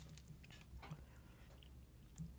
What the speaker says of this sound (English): you're going to continue to hear the chewing sounds because I really like this microphone